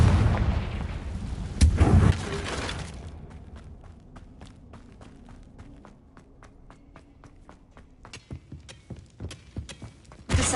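Confringo blasting spell explosions in Hogwarts Legacy: a heavy boom at the start, then a quiet stretch of sharp rhythmic impacts like footsteps, building to more blasts near the end.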